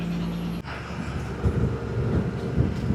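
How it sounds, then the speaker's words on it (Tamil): Steady strong wind roaring and buffeting against a microphone in a lorry on a mountain road near Tenkasi, a dense low rumble with gusty swells throughout. "ஆமாம்மா, காற்று ஃபுல்லாக அடிக்குது."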